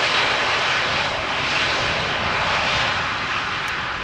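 An SAS CRJ900 regional jet arriving at Amsterdam Schiphol from Copenhagen gives a steady, fairly loud broadband roar that holds evenly for the whole few seconds, with no voices.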